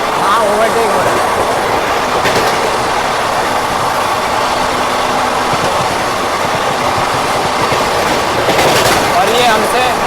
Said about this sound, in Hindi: ये हमसे फास्ट चलती हुई ट्रेन रामनगर दिल्ली हमको हराते हुए, वो देखो आगे आगे कर रहा है।